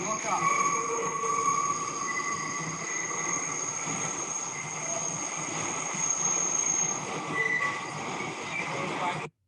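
An NYC subway train running through the City Hall station loop, a steady loud rumble with sustained high-pitched wheel squeal across the whole stretch, cutting off abruptly at the end.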